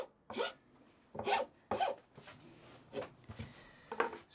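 A hand file rasping across splintering pine on a wooden twist-lock saw vise build, heard as six or so separate short strokes at a steady pace, close and fairly quiet.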